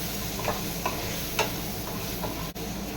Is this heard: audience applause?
no